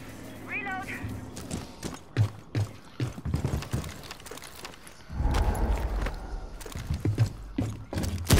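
A weapon is reloaded in the tactical shooter Rainbow Six Siege, with quick mechanical clicks and clacks scattered among footsteps and game noise while players talk over it.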